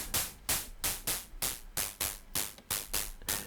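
Rhythmic bursts of filtered synthesizer noise, about ten hissing swells that each start sharply and fade, pulsing steadily with no voices.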